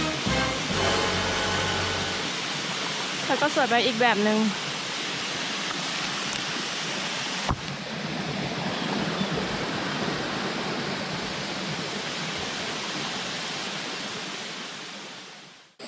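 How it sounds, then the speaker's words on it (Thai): A small waterfall in a New Zealand forest sends out a steady, close rush of falling water that fills the whole stretch. Someone speaks briefly near the start, and a short chirping bird call rises over the flow. "ถึงแล้วค่ะน้ำตกจิ๋วเท่ากับเมื่อกี้อันนี้จิ๋วไปเลย"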